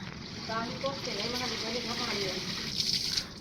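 Fresh water runs steadily in a continuous hiss, while a voice talks over it in the foreground.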